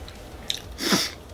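A mouthful of a giant Elvis-style peanut butter sandwich being chewed, with a short crunchy bite followed by a louder squishy burst of chewing close to the mic.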